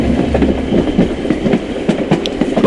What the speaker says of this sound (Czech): Vláček jede!